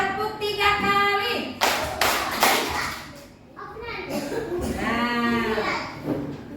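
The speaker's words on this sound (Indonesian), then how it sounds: "Tepuk 3 kali." Schoolchildren in an Indonesian classroom clap three times on cue, short loud bursts of hand claps close by, surrounded by children's chatter and a teacher speaking.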